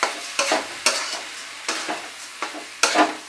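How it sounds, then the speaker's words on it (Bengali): Rice and lentils being sautéed over a medium flame for vegetable khichuri: about eight close scraping stirs in an uneven rhythm, each with a soft sizzle, and no talking. "চাল আর ডাল দেওয়ার পরে কিন্তু আমরা আরো কিছুক্ষণ কষাবো"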